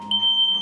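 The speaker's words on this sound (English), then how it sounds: "It's the fire alarm." A smoke alarm goes off indoors during a beef rib barbecue, giving one loud, piercing, steady electronic beep that holds for most of the moment, close and alone.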